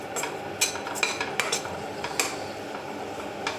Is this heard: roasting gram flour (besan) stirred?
yes